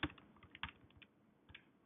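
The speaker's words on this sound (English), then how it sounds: "we can type all that in and calculate it away" Fingers tap numbers into a handheld calculator, a quick run of soft, close clicks followed by a few scattered presses, faint and without any talking.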